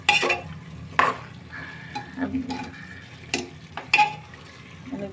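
Large pieces of chicken are stir-fried in a pan for a turnip curry: intermittent scraping and clanking strokes of a spoon over a low sizzle, close and fairly loud.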